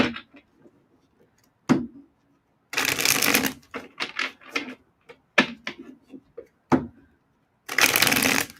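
Bursts of tarot cards being shuffled, riffling and rustling in short clusters with brief pauses between, close and fairly loud, no talking.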